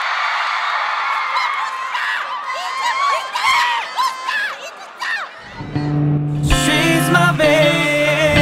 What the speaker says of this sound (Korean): 여러분들 뜨거운 박수와 함성 소리 부탁드리도록 하겠습니다